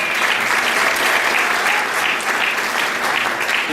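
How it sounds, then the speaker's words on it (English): A crowd at a young professionals' leadership talk applauds in a loud, dense, continuous round that holds steady throughout. "Give a round of applause."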